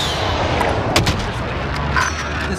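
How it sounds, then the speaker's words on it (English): Gunfire in the video game Warzone, distant shots and sharp cracks popping over a steady low battlefield rumble, with a louder burst near the one-second mark and another around two seconds. "They're shooting at your house now"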